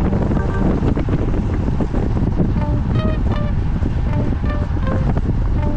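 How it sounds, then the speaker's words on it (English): Strong, steady wind buffets the microphone of a bicycle moving fast, around 23 to 25 miles per hour. A loud, continuous rush with no spoken voices. "here, you hear the wind."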